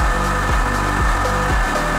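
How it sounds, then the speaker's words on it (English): Power drill boring a hole for a cable through the rear bumper of a Nissan NP300 Navara, a loud continuous whir with rhythmic pulsing as the bit bites, close up with no talking. "I'll just drill a hole for the cable"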